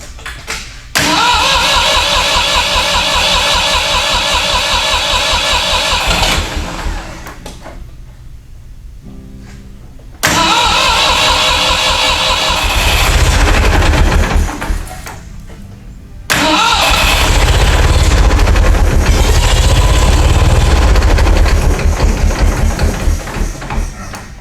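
A Ford 2000 tractor engine cranks loudly and repeatedly, with long grinding bursts of starter turning over, separated by brief pauses and a quieter stretch, never catching and settling into a clean idle.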